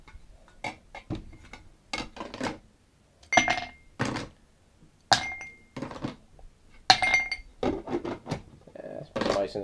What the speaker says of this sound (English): Yeah, that's put ice in the glass, too.